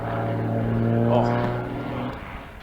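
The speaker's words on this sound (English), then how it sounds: "You can hear him pumping the throttle as he pushes his way through that gyroscopic maneuver." Aerobatic propeller plane in a freestyle display at the British Aerobatics Open Championship, its engine droning with steady low harmonics while the throttle is pumped, the pitch surging and dipping under a commentator's talk.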